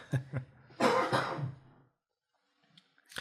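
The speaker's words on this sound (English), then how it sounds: "I am going to cough though" A person coughs several times close up, a couple of short hacks followed by a heavier, rough cough and throat clearing, then silence.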